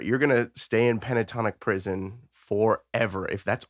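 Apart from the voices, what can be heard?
No everyday noises stand out.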